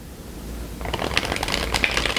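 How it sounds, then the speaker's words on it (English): Matte-finish animal tarot cards being shuffled overhand, a quiet start giving way to a dense run of soft riffling clicks and card slaps up close, with no talking. "I didn't even have to put much pressure on the cards for them to shuffle."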